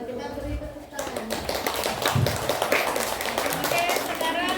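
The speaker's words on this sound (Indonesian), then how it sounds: "Kita beri tepuk tangan." A room full of people claps in a dense patter that continues for several seconds, with children's voices chattering beneath.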